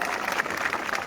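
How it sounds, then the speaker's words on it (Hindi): Brief burst of crowd applause at an outdoor political rally at Jantar Mantar, a dense, steady clatter of many hands clapping at moderate distance. "इसका हम जश्न मनाएं तालियों के साथ।"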